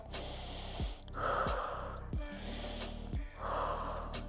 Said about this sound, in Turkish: Bir nefes al.